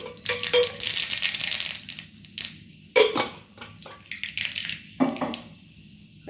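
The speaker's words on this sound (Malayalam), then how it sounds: "കടുക് ഇടുന്നുണ്ട്." Mustard seeds dropped into hot oil in a pan for a vegetable stir-fry, a burst of loud crackling sputter followed by scattered sharp pops and metallic clinks, close by and uneven in rhythm.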